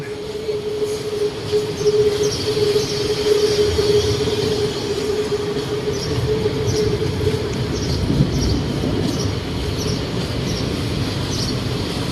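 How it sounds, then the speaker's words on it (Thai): Elevated BTS Skytrain train at Victory Monument station in Bangkok, a steady rumble of rolling carriages with a sustained tonal whine and faint wheel squeal, fairly loud and continuous throughout. "ก็ถึงสถานี BTS อนุสาวรีย์ชัยแล้วนะฮะ"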